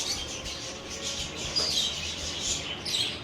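Parrots chirp in a garden centre on the Canary Islands, with faint, high, scattered tweets over a soft ambient background.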